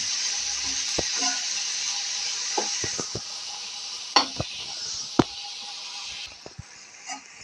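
A spoon makes sparse knocks and scrapes in a pan while a bean vegetable curry is stirred, over a soft background hiss, with a few sharper clacks standing out.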